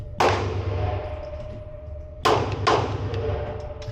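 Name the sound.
Ruger Security 9 pistol shots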